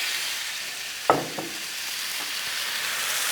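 Shrimp go onto a hot Blackstone griddle, with a sharp clank and a brief sizzling burst followed by a smaller second one over a constant background hiss, no speech.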